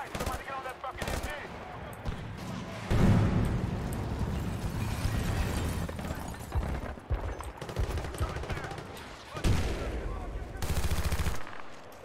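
Bursts of machine gun fire and gunshots from a Battlefield Bad Company 2 battle, loud and sustained across the scene with brief lulls, mixed with explosions and some game voices.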